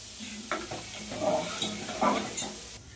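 Vegetables sizzling in hot oil in a pan, stirred with a few scraping strokes over a steady close, fairly quiet frying crackle, with no one talking.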